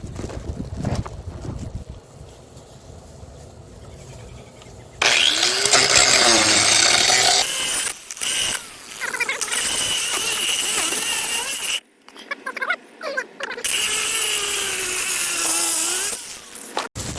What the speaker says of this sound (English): I was able to grind my way to the wires